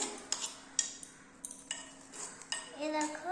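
A spoon clinks and scrapes against a pot while deuya fruit curry is stirred, a few sharp metallic taps over quiet room noise, with faint voices at the end.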